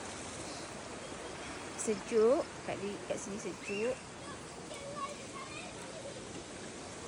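A river flows past a campsite at Sungai Talan, Rembau, in the early morning. It makes a steady, soft rushing wash throughout while a person speaks briefly over it.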